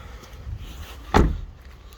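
A single short thud of the boot lid of a 2012 Nissan Qashqai diesel being opened, standing out once against a low background rumble.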